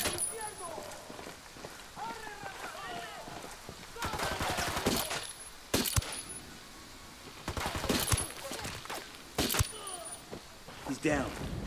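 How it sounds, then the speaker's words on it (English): Bursts of automatic gunfire in Ghost Recon Wildlands, several sharp rattling volleys spaced a few seconds apart, loud and close, with talk and game sounds between the bursts. "I'm opening fire on these shitheads"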